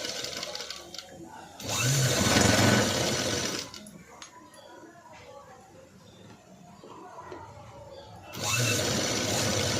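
A sewing machine stitches a sleeveless cut-work blouse, its motor running loud in two bursts at the start and end with a quieter stretch between, and a voice talks over it.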